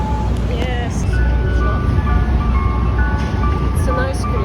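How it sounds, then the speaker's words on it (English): Ice cream truck jingle drifting through a Manhattan street, a tinkling melody heard at moderate distance over steady city traffic rumble, with people talking nearby. "Ice cream truck."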